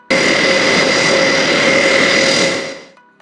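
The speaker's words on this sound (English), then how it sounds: "When an airplane engine starts, a low hum precedes the hissing, the whine, and the whirring of the turbines." A jet aircraft engine roars loudly and steadily with a high whine, then fades out near the end; no voices.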